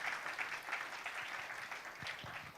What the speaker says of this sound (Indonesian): Tepuk tangan dulu yang kencang buat Tuhan kita yang baik